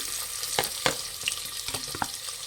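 Finely chopped onions fry with spices in oil for a mushroom biryani, a soft steady sizzle broken by a few sharp spatula clicks and stirs close by.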